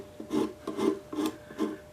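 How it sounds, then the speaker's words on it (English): A cheese-grater rasp shapes a homemade overhead-valve Briggs engine part in four rhythmic rasping strokes, close and fairly quiet, with no talking. "The more you get with a cheese grater, the more shaping you do"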